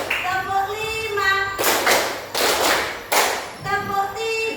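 Hands clap together in a rhythmic group game, three loud, evenly spaced bursts of clapping set against a sustained tonal background.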